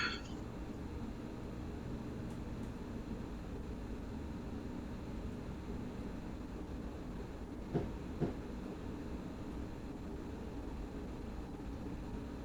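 A Class 313 electric train in Train Simulator 2017, running the Liverpool Street to Gidea Park line, gives a steady, even cab rumble with a couple of brief clicks partway through and no voices.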